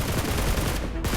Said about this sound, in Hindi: मेरे हाथ से ये स्कार लगती है तो इसी से दुश्मनों की पिटाई करना चालू कर देता हूँ